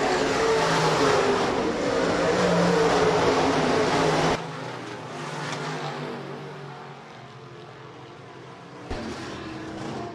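B-Modified race cars roar past at Rapid Speedway, a loud blended engine drone that abruptly drops to a fainter, more distant rumble before a short swell near the end.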